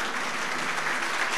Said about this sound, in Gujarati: આ તાળીઓનો નાદ તારા કાન સુધી જે પહોંચી રહ્યો છે